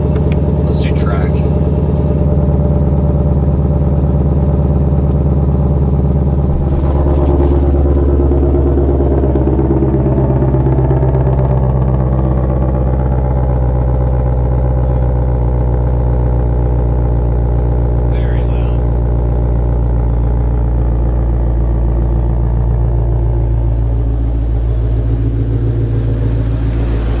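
A 2021 Ford Mustang GT500 Carbon Fiber Track Pack engine idles with a deep, loud, continuous rumble close by. The tone shifts slightly partway through, and faint clatter sits above the steady drone.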